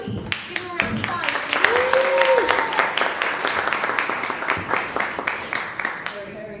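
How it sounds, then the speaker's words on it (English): Audience applause at a live comedy improv show: dense, steady clapping from a crowd fills about six seconds, with a brief high tonal call rising over it partway through. "Give him a round of applause."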